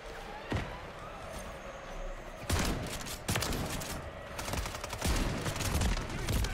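Reclaimer 18 shotgun blasts fire in the Modern Warfare 3 video game, a series of sharp, loud bangs at irregular intervals amid rumbling battle noise and scattered distant gunfire.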